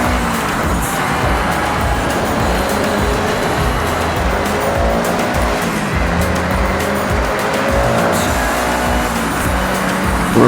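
Race car engine in Forza Horizon 6 on Xbox Series X, a steady loud roar that holds throughout with shifting pitch as the car runs a lap, with faint tire noise and no talking.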